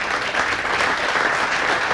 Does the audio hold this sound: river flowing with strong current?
no